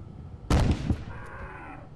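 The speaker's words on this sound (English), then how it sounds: "I shouldn't waste shotgun shots like that." A shotgun blast in the survival horror video game ObScure: a single loud, sharp report that rings out briefly and fades, with no talk over it.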